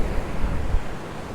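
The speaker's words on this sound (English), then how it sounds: "all in front of us along the frontier you can see all the waves" Stormy sea waves smash against a concrete seafront in Santa Ponsa, Mallorca, a dense roaring wash of surf with heavy wind buffeting the microphone, swelling in low rumbling surges.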